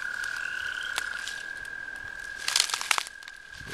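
A brief pickerel frog call, a short rattling croak near the end, rising over a steady high-pitched tone and quiet background.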